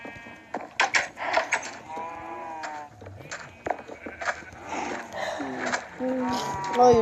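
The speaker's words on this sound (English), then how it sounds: "The cow is trapped." Moos from a trapped cow in a block-building video game, several bellowing calls mixed among lively chatter and exclaiming voices, with game effects in between.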